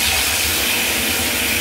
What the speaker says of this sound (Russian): я в раковине открою кран на полную